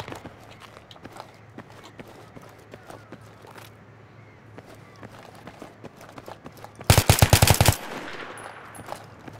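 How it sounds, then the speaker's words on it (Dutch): Battlefield 3 gunfire: a rapid burst of about ten loud automatic shots rings out late, after quieter scattered pops and footstep-like clicks under faint game ambience. "Ik hoor hem net schieten, dus ik pak hem niet op."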